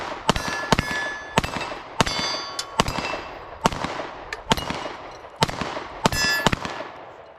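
Sig P365 XL pistol fired at the shooting range, roughly a dozen loud sharp shots in a steady, slightly uneven rhythm, each with a short ringing decay and no talk.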